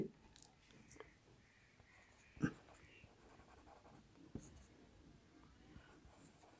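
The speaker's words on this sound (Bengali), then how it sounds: "এবার আমি একটা এক্সাম্পল লিখছি" A pen scratches faintly as an example is handwritten, with light strokes and a couple of sharper taps against a quiet background and occasional soft speech.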